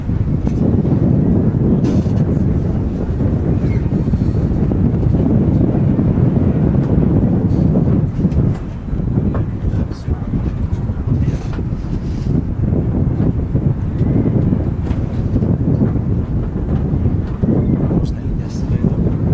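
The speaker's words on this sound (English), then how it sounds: "It certainly is windy today." Strong, gusty wind buffets an outdoor microphone at Manchester Airport, a loud continuous low rumble with surging gusts throughout, and someone speaks over it.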